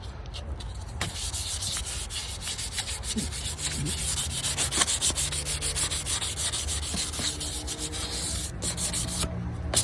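Steady close-up rubbing and scrubbing of a metal exhaust tip being hand polished, continuous and even for the whole stretch, with a few sharper strokes standing out.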